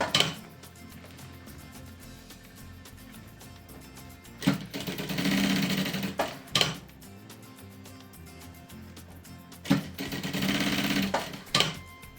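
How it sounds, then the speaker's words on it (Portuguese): Sewing machine running an edge seam along a pre-school backpack with a 3D animal design, with steady stitching bursts and short louder surges of clatter, heard up close with no talk. "E vamos fazer novamente uma costura à beirinha"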